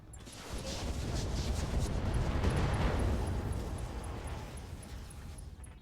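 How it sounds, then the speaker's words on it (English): A clan heat bank explosion in the Battletech game with the Roguetech mod, a deep rumbling blast that swells over a few seconds and slowly fades, faint voices mixed in. "Clan heat bank explosion."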